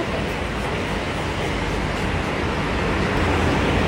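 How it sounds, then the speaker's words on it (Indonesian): An MRT train station fills with a steady, loud, low rumbling roar of rail and machinery ambience that stays even and continuous with no clear voices. "Ini MRT stationnya."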